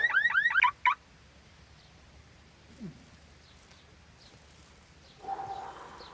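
Alarm in a home with shrill rising electronic warbles in a quick burst at the start, then near silence with a faint low blip and a later fainter buzzing tone.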